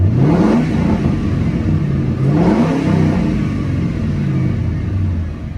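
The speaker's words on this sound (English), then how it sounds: "this has dual exhaust with the muffler delete and to 4-inch pipes with chrome tips" A 2011 Ford Crown Victoria P71 V8 runs with dual exhaust, a muffler delete and 4-inch pipes. It gives a loud, deep rumble with two rising revs early on before settling back to a steady idle.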